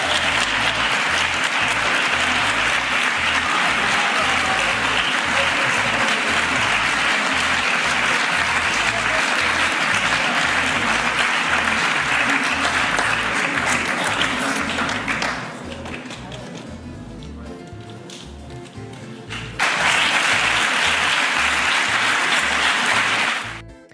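Sustained applause from a large audience at an award ceremony as the Miura bull-breeding brothers receive a medal from the king and queen, with rhythmic clapping that dips briefly before surging back.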